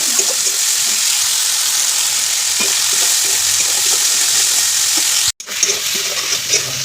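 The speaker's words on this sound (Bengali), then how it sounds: "ঠিক এরকম লাল লাল করে ভাজবে, দেখে নাও।" Ginger garlic paste fries and is stirred for fish curry, a loud continuous sizzle with soft scraping, close up, ending with a brief break and a knock near the end.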